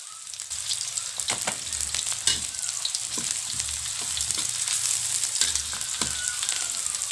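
Spices sizzle in hot oil with orange leaves and bay leaves as a vegetable stir-fry begins, with a steady hiss broken by spatula scrapes and clicks against the pan, close by and without talk.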